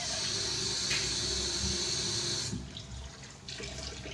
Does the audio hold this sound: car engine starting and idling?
no